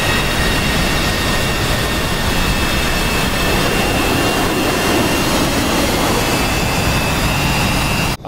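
A MiG-29 Golf fighter jet engine in a flight simulator game roars as a steady, loud, unbroken broadband rush that fills the whole stretch before cutting off at the end.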